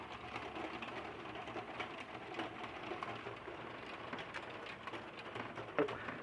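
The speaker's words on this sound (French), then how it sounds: "Donc c'est possible que c'est averse de grêle." A light hail shower falls in Villers-Bocage, Normandy, in March, a faint steady patter of many small hits with a few sharper clicks, distant and even throughout, with no voices.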